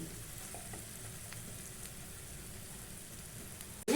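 Okra for dahi bhindi frying in hot oil in a pan, a steady close crackling sizzle with light stirring scrapes, ending in a brief louder clatter.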